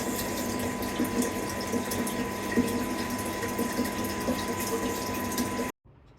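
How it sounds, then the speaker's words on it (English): A toilet flushes and its cistern refills in a small loo. Loud, steady rushing water runs continuously up close and stops abruptly just before the end. "I just came to the loo and flushed the toilet"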